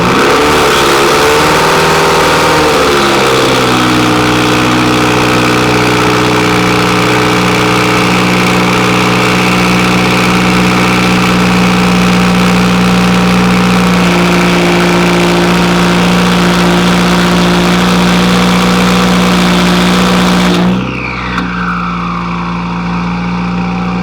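A Nissan 240 fitted with an ETS Extreme catback exhaust idles after a cold start, recorded from inside the car. The steady, loud engine drone holds throughout, then changes abruptly near the end.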